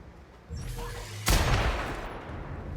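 A single loud blast of weapon fire in The Outer Worlds video game cracks out after a low rumbling game background, then trails off into a lingering noisy tail.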